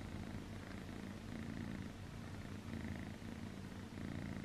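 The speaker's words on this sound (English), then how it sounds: "He purrs all the time." A young cat purrs steadily and continuously up close, a soft, even rumbling that never breaks, quiet and alone.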